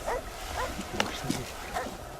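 Hunting dogs bark in short, scattered bursts during a wild boar hunt, a few sharp yelps standing out over a noisy outdoor background with faint voices.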